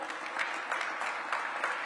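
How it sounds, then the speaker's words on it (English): An audience at a Cleveland-area press conference held by county and city leaders gives the speakers a brief round of applause, scattered hand claps that are fairly close and steady, with no voices over them. "let's give all of our speakers a round of applause if we can."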